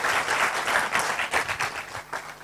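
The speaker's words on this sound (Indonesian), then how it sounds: "Berikan tepuk tangan yang meriah buat Tuhan." A church congregation applauds steadily during a service, dense clapping filling the room, then thinning slightly toward the end.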